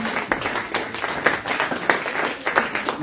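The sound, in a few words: congregation applauding in church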